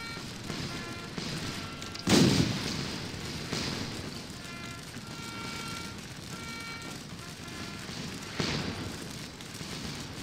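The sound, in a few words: artillery fire in the video game Scourge of War: Waterloo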